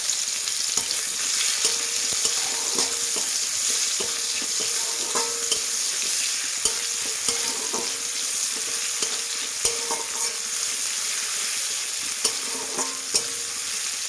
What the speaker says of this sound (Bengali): এটা দিয়ে দিলাম ফোড়ন, একটা দিয়ে নিলাম লঙ্কা, আর দিয়ে দিলাম পেঁয়াজ কুচি